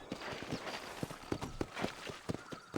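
Horse hooves clip-clopping at a quick gallop inside the video game Red Dead Redemption, a steady rhythmic run of hoofbeats heard close and fairly faint over a soft background bed.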